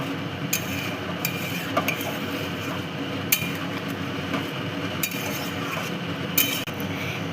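Chicken and potato curry with garam masala and ghee, stirred in a pot over a steady cooking hiss, with occasional light clinks of the spoon against the metal.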